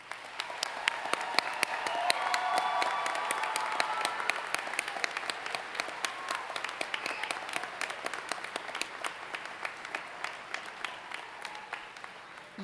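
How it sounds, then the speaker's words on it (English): Sustained audience applause for graduating candidates at a summer commencement ceremony, steady dense clapping from a large crowd in a hall, swelling early then holding evenly for over ten seconds. "Let's give our candidates a round of applause"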